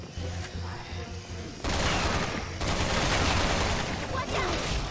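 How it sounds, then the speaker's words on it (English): Sustained gunfire in the video game Resident Evil 6, dense rapid bursts that grow louder and fill the scene, with the player talking faintly underneath. "Someone's shooting at us!"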